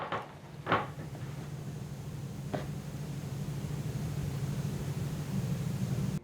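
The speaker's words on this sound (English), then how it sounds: "Somebody keep opening this cabinet out here." A cabinet door opening in the Garnett House Hotel, heard as a few soft knocks and clunks over a steady low hum, fairly quiet and somewhat distant.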